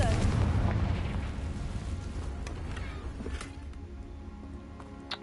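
A Confringo fire spell explodes in Hogwarts Legacy, a loud, deep, booming blast that rumbles and slowly decays over several seconds.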